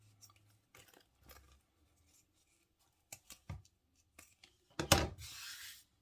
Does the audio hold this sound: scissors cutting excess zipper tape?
yes